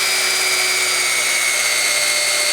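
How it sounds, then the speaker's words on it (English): A hand drill fitted with a 3/8 inch bit bores through wood, a steady high-pitched whirring and grinding that holds unbroken and fairly loud for the whole stretch. "I'm going to take my hand drill with I think that's a 3/8 inch bit in there"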